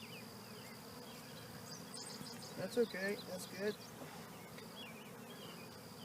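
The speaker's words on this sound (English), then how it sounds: "This one's got more bees than the other one." Quiet, steady buzzing of honey bees around an open beehive during a hive inspection, a soft continuous drone with a person talking briefly over it in the middle.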